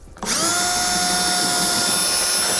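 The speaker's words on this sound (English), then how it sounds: "We're going to start with the pilot hole first." Power drill boring a pilot hole through a bumper beam on a 2009 Honda during a trailer hitch install, a loud steady whine that starts abruptly and holds, close up.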